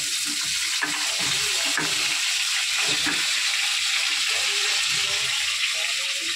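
Potatoes and pointed gourd hit a pan of hot oil with fried white cumin, giving a loud, steady frying sizzle throughout, with occasional soft clatter of stirring.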